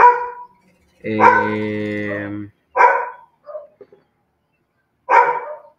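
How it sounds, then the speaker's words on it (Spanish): A dog barks and yelps in one drawn-out burst indoors, mixed with a person talking in Spanish. "Lo siento por mi perro que no bueno para ladrar."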